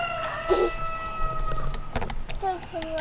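Chickens in a backyard vegetable garden give a few short clucks and higher calls near the microphone, while a person talks at moderate level.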